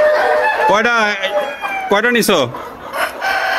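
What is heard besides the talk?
chickens clucking in a hatchery farm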